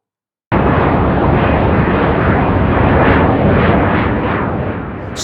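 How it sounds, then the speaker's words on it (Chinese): An airplane roars loudly overhead in a sudden, sustained broadband rush that starts abruptly and holds strong before beginning to fade, with no voices present. "比如这个飞机飞过的声音"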